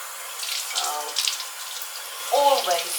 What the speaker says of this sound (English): I always wash it through thoroughly with hot water